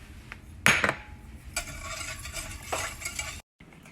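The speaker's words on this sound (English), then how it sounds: "I'm going to whisk in some salt" A whisk scrapes and swishes through heavy cream soup for broccoli and cheddar soup as salt is stirred in. Several close, brisk metallic strokes come in bursts, with a brief silence near the end.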